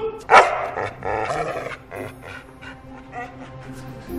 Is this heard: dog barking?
yes